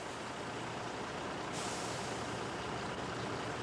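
A heavy truck hauling one half of a large house being moved, a steady broadband engine and road rumble holding evenly throughout with a brief hiss-like lift midway, heard from a moderate distance with no voices.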